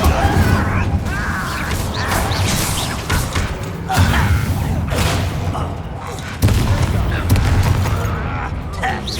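Incendio fire spells are cast in a magic video game, producing repeated whooshing bursts and booming impacts amid constant combat noise and game voices.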